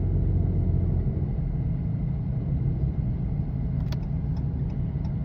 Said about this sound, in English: that exhaust thing is loud